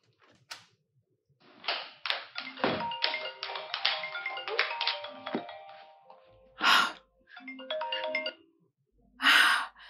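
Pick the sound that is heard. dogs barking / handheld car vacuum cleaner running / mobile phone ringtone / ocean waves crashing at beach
mobile phone ringtone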